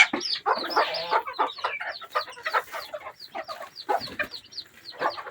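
Chickens cluck busily at close range in a steady, overlapping stream of short, sharp calls.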